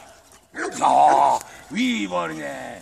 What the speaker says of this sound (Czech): To je můj pes toto.